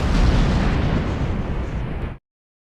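A grenade goes off in the Free Fire battle royale game: one loud, close blast that rumbles on for about two seconds, then cuts off abruptly to silence.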